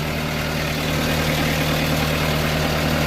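A 2019 Morooka MST200VDR tracked carrier's engine runs steadily at idle, a loud, continuous low hum with a constant tone and no break for the whole stretch.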